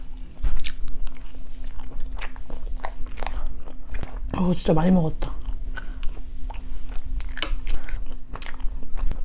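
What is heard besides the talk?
chewing buldak fire noodles with takoyaki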